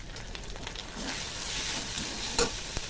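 A spice paste of garlic, ginger, cumin, turmeric and salt with a splash of water sizzles in a pan for rui fish curry, with soft stirring scrapes and a couple of sharper clinks.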